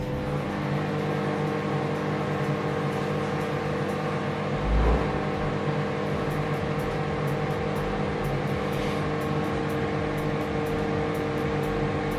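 A Samsung MS23F301TAW solo microwave oven runs with a steady, even hum and whir, heard close and alone, with one brief low thump partway through.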